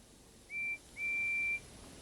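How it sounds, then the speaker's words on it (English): A guard's shrill whistle at a steam railway sounds twice, a short blast followed by a longer sustained one, clear and fairly close over faint background hiss. "the guard's whistle blew, and the two engines set off"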